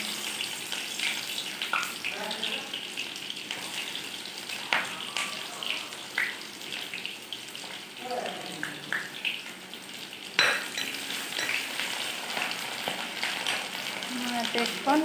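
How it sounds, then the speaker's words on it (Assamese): Onions sizzle in hot oil with a bright continuous crackle, nearby, as a utensil clinks and stirs now and then; a voice speaks faintly in the background at moments. "এতিয়া মই ইয়াতে দিম পিঁয়াজ"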